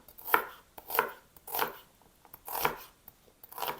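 A knife chops onion on a cutting board in five evenly spaced, crisp strikes about two-thirds of a second apart, close and fairly quiet, with no talking.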